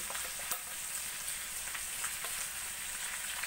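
Curry powder, chili powder and turmeric frying in a pan for a fish curry, giving a steady close sizzle with faint crackles and scattered spits, no voices.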